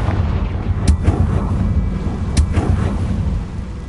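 Confringo blasting spell cast in the Hogwarts Legacy video game, heard as two sharp bright cracks about a second and a half apart over a loud, rumbling, continuous game ambience.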